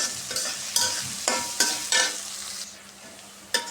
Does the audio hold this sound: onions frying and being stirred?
yes